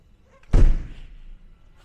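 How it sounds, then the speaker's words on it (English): A fiberglass storage compartment door on a 2003 Intrigue motorhome swings shut with a single solid thunk, close and fairly loud, then a short fading rattle into quiet. "You can see how the fiberglass doors shut, you know, they much better than aluminum doors"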